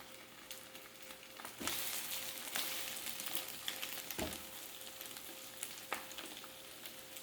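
A crab stick and onion omelette fries in a pan with a quiet, continuous sizzle, punctuated by a few sharp clatters and scrapes of a utensil against the pan; faint overall, with no voices.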